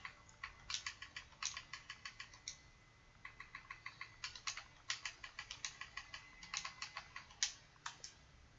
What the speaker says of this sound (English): so of course we're typing Charleston